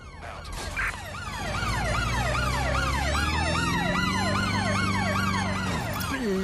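An ambulance siren wails in Watch Dogs: Legion, a loud, close, rapidly cycling up-and-down tone over a running vehicle engine, with no speech heard.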